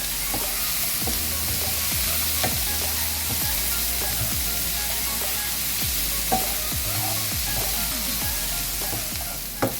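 Green peppers fry in a pan for a breakfast quiche, giving a steady close sizzle with repeated scraping stirs and knocks throughout.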